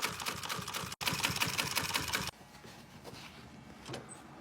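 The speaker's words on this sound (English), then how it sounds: "Now we can sew this to this and finish the edge all the way around." A sewing machine stitches pontoon seat upholstery in rapid, steady bursts that stop abruptly, followed by quieter rustling and handling of the fabric, close and alone with no talk.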